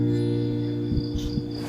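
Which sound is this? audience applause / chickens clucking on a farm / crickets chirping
crickets chirping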